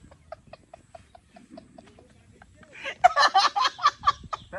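A local rooster at a village home lets out a string of soft, evenly paced clucks, then a louder, rapid burst of close cackling near the end, with faint background sounds underneath.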